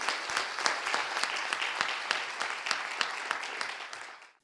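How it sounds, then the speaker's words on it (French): Audience applause at a final of a high school debate and eloquence competition, a steady dense clapping from a full hall that holds for several seconds before tailing off at the end. "Vous pouvez applaudir."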